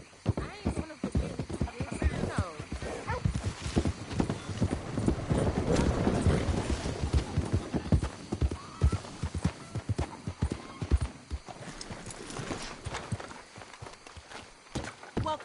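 Steady clip-clop of horse hooves walking close by in Red Dead Redemption 2, with a horse whinnying and people talking over the hoofbeats.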